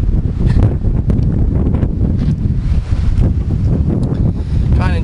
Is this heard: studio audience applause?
no